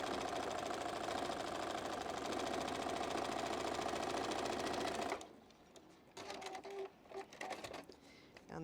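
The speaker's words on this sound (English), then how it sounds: "sew down the white lines." A sewing machine runs steadily for about five seconds while stitching a quilt block along white lines, then stops, leaving quieter handling noises and a brief restart of clicking afterward.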